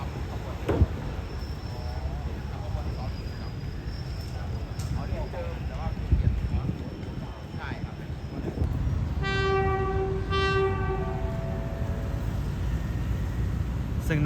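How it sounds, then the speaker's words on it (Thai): A train draws into track 3 at Bang Sue Junction station in Thailand, its steady rumble filling the platform before a loud, sustained multi-tone horn sounds twice near the end, with voices in the background. "ขณะนี้สตอม 4308กำ ลังลงมาในทางที่3ชุมทางบางซื่อนะครับ"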